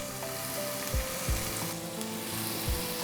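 Onion, garlic and chopped tomatoes sizzle steadily in a hot pan for a rajma cheese paratha filling, a continuous close frying hiss with a few soft stirring knocks.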